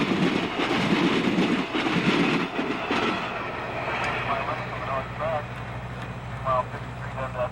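A train rumbles across a railway diamond crossing with heavy rhythmic clattering of wheels over the track joints, loud at first, then easing into a steady rolling noise.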